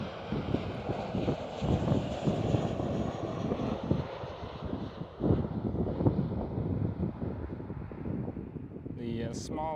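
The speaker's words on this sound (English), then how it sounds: "And it indeed is KLM 737, a 700." A KLM Boeing 737-700 jet at Schiphol Amsterdam roars with broad engine noise and buffeting wind rumble, the high whine slowly fading away, and a person starts talking at the very end.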